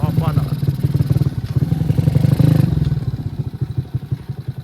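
A motorcycle engine chugs and clatters up close in a rhythmic idle pulse, with thumps and scraping as it is handled.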